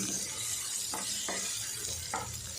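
Tomatoes and dried red chillies sautéing in a pan for a chutney, a steady sizzle and fry hiss running throughout with a few brief stirring scrapes.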